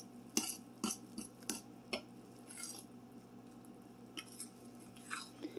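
Cake batter stirred by hand in a mixing bowl, with irregular clinks and scrapes of the utensil against the bowl, close and fairly quiet, with no talking.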